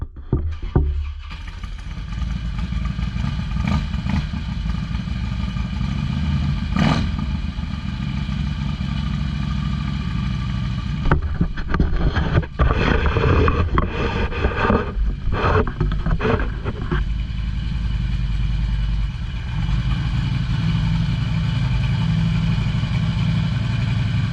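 A 1985 Honda Shadow motorcycle engine runs steadily at idle, a loud, continuous low rumble close by, with a few brief clanks and knocks partway through.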